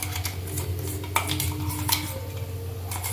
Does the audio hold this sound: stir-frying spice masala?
yes